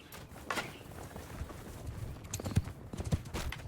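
Horse archers galloping across a battlefield in the Mount & Blade II: Bannerlord video game, producing a steady rumble of hooves with scattered louder thuds, at moderate volume and without speech.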